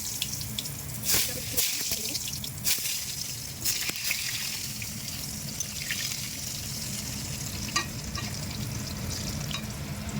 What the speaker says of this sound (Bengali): আলুটাকে দিচ্ছি প্রথমে, আলুটা ভেজে নিই।